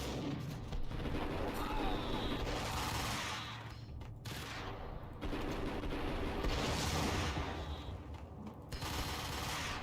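Sustained gunfire in the 2001 video game Max Payne: dense bursts of automatic fire and booming shots that surge, drop briefly and return, loud throughout.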